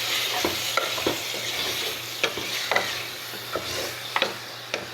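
Chopped meat with spices and cloves sizzles in a pan as it is stirred, a steady frying hiss close by punctuated by sharp scraping clicks of the utensil at irregular intervals.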